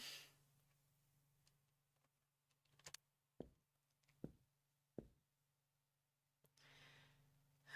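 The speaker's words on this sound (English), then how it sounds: "can hear her breathing faintly" A woman breathes faintly in a murder-mystery video game, with soft, isolated sighs and short clicks over a low steady hum in an otherwise very quiet scene.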